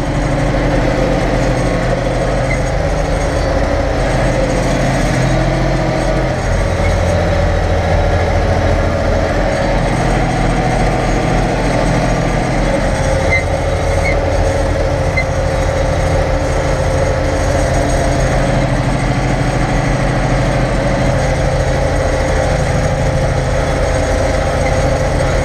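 A heavy tractor engine drones steadily at close range while ploughing a field, a low continuous rumble with slight fluctuations throughout.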